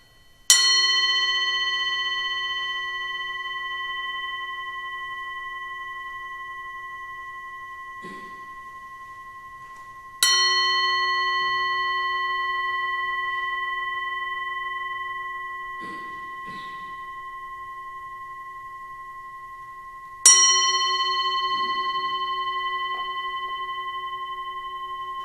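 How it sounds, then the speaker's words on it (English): A Buddhist singing bowl is struck three times at even intervals, each strike ringing out clear and close and sustaining a long, slowly fading tone; faint rustles and small sounds fill the gaps. "By the way, this is a singing bowl."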